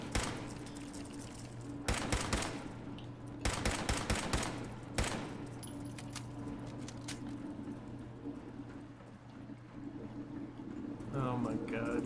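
Gunfire in the Fallout 4 video game: bursts of loud automatic shots around two, four and five seconds over a steady droning game backdrop, with a voice speaking near the end.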